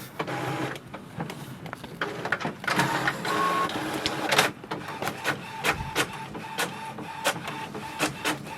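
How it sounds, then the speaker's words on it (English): An HP OfficeJet 8012 inkjet printer making a copy, with a steady mechanical whir of feed rollers and print head carriage, rhythmic clicks and motor pulses, close and fairly loud, no voices. "click the green icon which is on the touch screen panel and it will start the copy"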